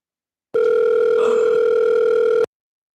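A steady telephone dial tone plays loud and alone through a speakerphone, holding for about two seconds before cutting off abruptly, with no talking.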